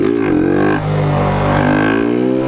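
Motorcycle engine revved in repeated throttle pumps during solo wheelie practice, loud and close, with a rising then steady harmonic whine and no talk.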